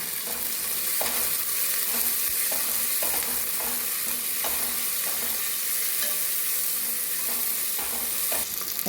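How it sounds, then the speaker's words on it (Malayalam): Crushed garlic frying in a pan for mushroom soup, a constant bright sizzle with a soft rhythmic scrape of stirring repeating about once a second throughout. "വെളുത്തുള്ളിയൊക്കെ നല്ല ഗോൾഡൻ കളറിൽ വന്നു"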